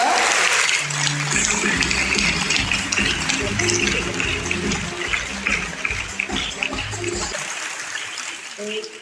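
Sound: audience applause at award night

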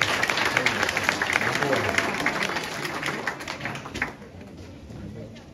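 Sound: audience applause at a party

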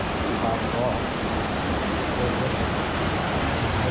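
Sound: small waterfall in North Goa

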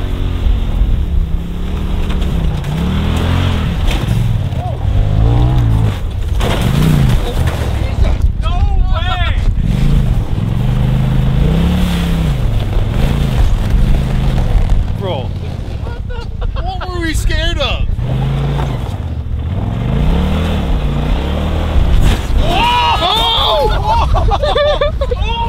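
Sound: shifter kart engine driving fast in the desert

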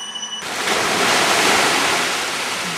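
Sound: sea waves splashing

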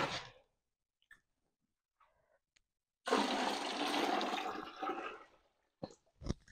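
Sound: hot water poured into bucket

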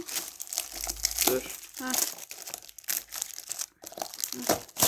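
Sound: gift wrapping paper being torn open

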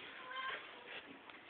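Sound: cat meowing

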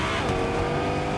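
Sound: car driving off in Fortnite video game

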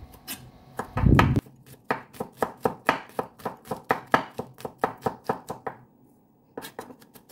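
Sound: knife chopping garlic

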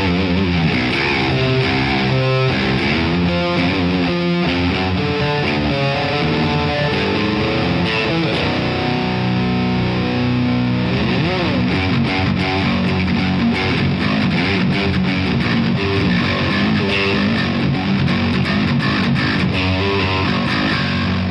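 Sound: distorted electric guitar on two pickups

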